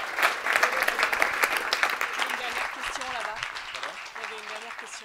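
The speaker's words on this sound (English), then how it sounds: "Applause for Jochen." Applause from a summit audience after a business talk, dense clapping close and loud at first, then thinning and fading as a voice begins speaking over the tail.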